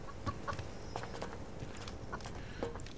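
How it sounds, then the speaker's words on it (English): Chickens in the hardcore survival video game Subsistence cluck in short, scattered bursts over a steady ambient background, with light footsteps nearby. "Let's check chickens."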